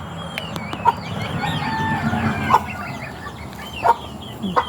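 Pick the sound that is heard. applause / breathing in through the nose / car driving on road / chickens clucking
chickens clucking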